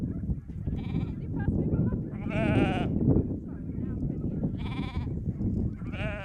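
Sheep on a Falklands farm, lambs and ewes being weaned, bleating repeatedly in overlapping calls over a dense, continuous flock murmur, some near and loud, others farther off.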